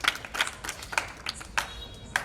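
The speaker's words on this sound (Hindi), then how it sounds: "एक बार जोरदार तालियां हो जाए" Scattered, sparse handclaps from a small audience at a Vijayadashami gathering after a song performance: a few separate claps at uneven intervals, fairly faint, with no voices.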